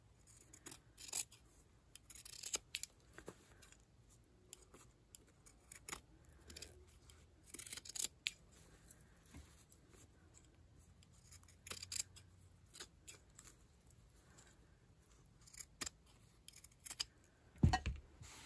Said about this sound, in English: Okay, I'm going to trim these.